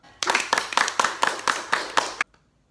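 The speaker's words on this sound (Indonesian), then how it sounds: "Mari kita sama-sama memberikan aplaus untuk kelompok 1." Applause for a student group after its class presentation: about eight evenly spaced, crisp claps in a quick rhythm, close by, then silence.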